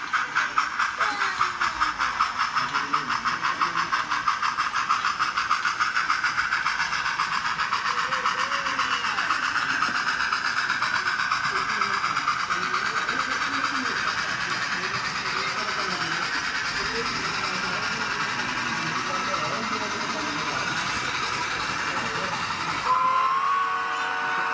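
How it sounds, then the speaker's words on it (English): Two heavy HO scale model steam locomotives climb a 1 in 30 incline on a Chinese-themed exhibition layout with a steady, fast chuffing and hissing that runs throughout, and a brief whistle near the end. "the two heavy locomotives snort off up the 1 in 30"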